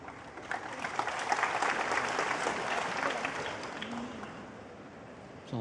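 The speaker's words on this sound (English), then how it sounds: "Applause from the crowd" Steady applause from a sizeable audience in a snooker arena at the Shanghai Masters 2024 final, dense clapping that swells slightly and then eases off.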